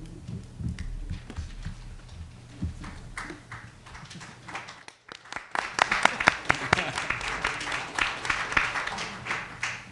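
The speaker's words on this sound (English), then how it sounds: "And I just want to give our community a round of applause and a pat on our back" City council meeting attendees give scattered, sparse claps that build into a fuller, closer round of applause for the community partway through, after a brief lull.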